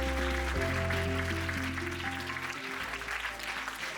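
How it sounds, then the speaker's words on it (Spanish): Audience applause welcomes a speaker at a 2024 orientation event, a dense wash of clapping over steady background music that holds through to the end. "Recibamos con un fuerte aplauso a Miguel López."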